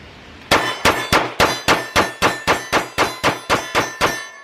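Rapid string of CZ P01 pistol shots at an outdoor range, a mag dump of about thirteen sharp, loud cracks fired in a quick, even rhythm with nothing else heard between them.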